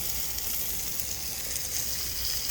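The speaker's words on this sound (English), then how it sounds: "All right, I got the second steak on." Steak searing on a Coleman Fold N Go portable propane grill outdoors at a tailgate, a steady, even sizzle with soft crackle held at moderate level throughout, no voices.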